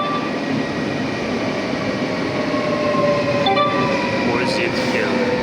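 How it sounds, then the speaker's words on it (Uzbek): A train pulls into Gouda station in the Netherlands, with a steady rolling rumble and squealing brakes throughout, and faint voices audible beneath it. "poyezd yetib keldi."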